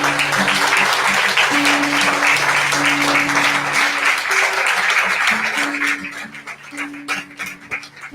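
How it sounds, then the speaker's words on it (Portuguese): A church congregation claps steadily at a service, a dense wash of applause with sustained organ or keyboard notes beneath, thinning into scattered claps toward the end. "Pode aplaudir a Jesus."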